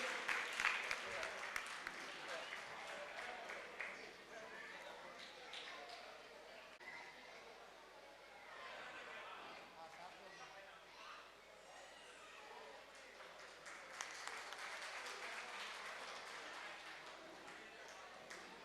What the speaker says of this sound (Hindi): बच्चों के लिए जोरदार तालियां, मीठी मीठी तालियां बजनी चाहिए।